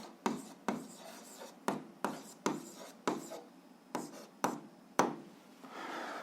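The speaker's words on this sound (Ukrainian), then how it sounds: "записуємо відповідь, пишемо відповідь" A pen writes an answer by hand on paper, with about nine quiet scratchy strokes in an uneven rhythm, close up and with no voices.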